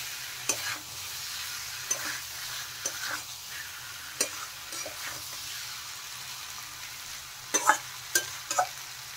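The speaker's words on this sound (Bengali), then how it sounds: "দিয়ে ভালো করে নেড়ে চেড়ে মশলার সাথে আরেকটু কষিয়ে নেব।" Fried potatoes, onions and eggs stirred through spice paste for a Bengali egg curry, a soft steady sizzle with scraping spoon strokes and a few sharper clinks against the pan, close and alone.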